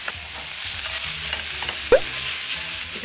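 Pork belly frying in a frying pan: a steady, hissing sizzle runs throughout, with soft stirring scrapes and one brief clatter near the end, while a single word is spoken quietly.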